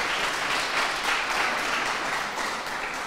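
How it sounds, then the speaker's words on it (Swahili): Audience applause at a Swahili arts performance at a mixed secondary school, a steady wash of clapping hands sustained evenly for a few seconds without talk over it. "Piga makofi huyo."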